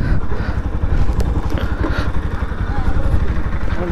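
Bajaj Pulsar NS200 motorcycle being ridden, its steady engine drone and pulsing exhaust running loud and close throughout, with people talking over it.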